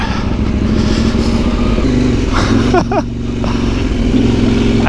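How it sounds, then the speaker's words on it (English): Middleweight adventure motorcycles, a Ducati Desert X and KTM 890 rally bikes, ride off-road in Arkansas, their engines droning steadily and loudly close by with some clatter and a brief throttle change midway. "that bike is a rally bike, the most aggressive off-road middleweight adventure bike made"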